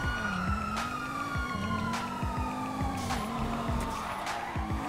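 A police car siren wails continuously in GTA V, loud and close with steady rising and falling tones, over rumbling engine and traffic noise and no talk.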